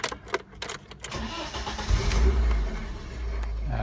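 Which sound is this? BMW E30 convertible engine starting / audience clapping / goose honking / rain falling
BMW E30 convertible engine starting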